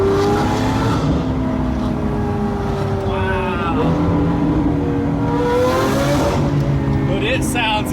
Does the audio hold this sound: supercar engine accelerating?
yes